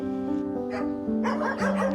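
Dogs at a dog shelter in the Philippines yip and bark close by, their voices overlapping in quick, excited bursts with no pause.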